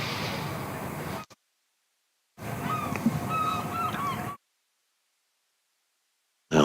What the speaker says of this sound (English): the sound of the seagull, or herring gull